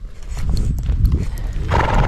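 Draft horses working while spreading manure, with close, loud hoof thuds and shuffling, then a strong neigh near the end.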